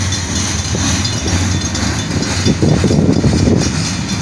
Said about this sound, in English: Wishing for this train here to absolutely block this road.